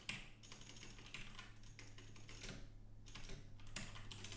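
Rapid, faint clicking of keys on a worn, crusty computer keyboard, a continuous close patter of typing over a low steady hum with no voices.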